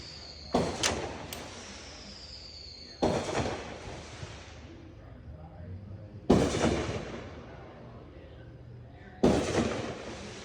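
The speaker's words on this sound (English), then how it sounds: "Ooh, they got those fireworks going off." Fireworks go off outdoors in four sharp bursts, each a loud crack fading into a crackling tail, spaced a few seconds apart and heard at some distance while a minivan is being worked on nearby.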